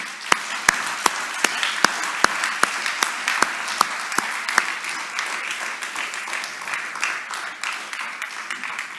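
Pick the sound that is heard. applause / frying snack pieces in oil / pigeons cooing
applause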